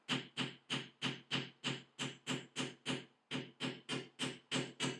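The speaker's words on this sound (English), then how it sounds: "So I'm just going to hammer it very lightly, like that." Rapid, evenly spaced light hammer taps on a metal earring bar connector, around three per second, crisp and close with a brief pause midway before the tapping resumes.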